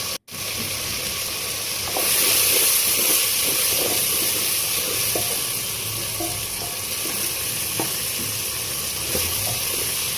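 Chicken pieces fry in oil with onion and ginger-garlic paste while the remaining water cooks off. They give a continuous close hiss and sizzle that swells louder after a couple of seconds, with scattered small pops and no talking.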